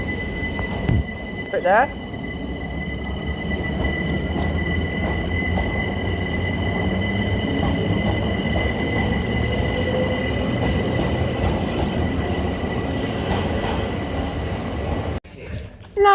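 A Southern class 377 electric multiple unit on the Horsham to London Victoria service rumbles past a station near Ewell East, a loud, sustained roar with squealing wheels and a high whine, while a person speaks briefly near the start.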